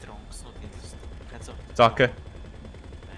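Two sharp gunshots from a firearm in GTA V ring out close together in an online multiplayer session, standing out briefly above ongoing voice chat.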